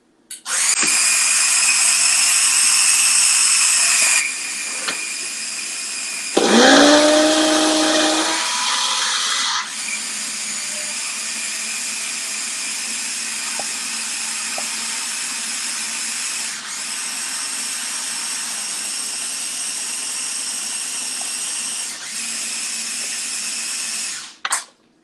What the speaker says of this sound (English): So I'm going to move this over to my blender here. It will get loud for a second